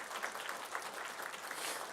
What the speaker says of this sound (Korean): 박수로 영접해 주시기 바랍니다